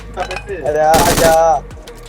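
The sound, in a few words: gunfire in video game PUBG Mobile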